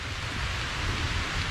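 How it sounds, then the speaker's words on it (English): Rain falling on a river while fishing, a steady, dense broadband hiss of drops that stays even and fairly loud throughout, with no voices over it. "the forecast didn't call for rain, but we got it"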